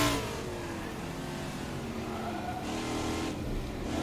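A Trans Am engine in Assetto Corsa drones at high revs, loud and steady throughout, with small shifts in pitch and level and no talk over it.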